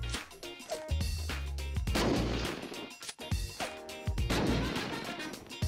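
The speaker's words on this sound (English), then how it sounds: "I'm gonna spam everything with grenades." A run of grenade explosions in the game Unturned goes off one after another during a raid. They are loud, heavy booms with crashing tails, close by and with no talking.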